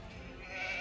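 Sheep bleating in the Age of Empires II video game, a short, faint, wavering call that rises slightly toward the end, heard alone.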